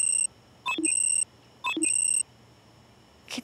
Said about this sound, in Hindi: कितने अलार्म लगाए हैं इसने सुबह उठ के क्लास आने के लिए।